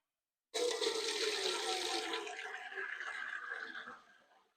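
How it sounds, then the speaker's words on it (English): Rhubarb wine liquid poured and strained off chopped frozen rhubarb and sugar, a sudden loud gushing splash that streams steadily and tapers off after a few seconds, close by. "it's time to strain off the fruit"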